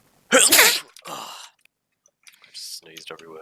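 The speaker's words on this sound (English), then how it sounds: "just sneezed everywhere." One loud, close sneeze bursts out, followed by a breathy exhale and some soft vocal sounds.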